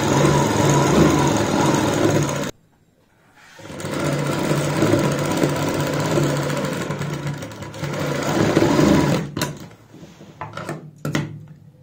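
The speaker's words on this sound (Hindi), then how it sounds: "हमने यहाँ पे जो सिलाई लगाई है बुकरम के ऊपर लगाई है" A sewing machine stitches a line on buckram for kurti piping. Close, loud whirring runs stop for a short pause and then resume, and a few sharp clicks and handling knocks come near the end.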